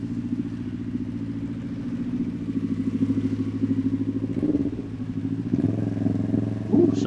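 A motorcycle engine rumbles steadily on a Manila road, loud and close with a continuous low drone, its pitch shifting slightly as it moves past with traffic; no one speaks.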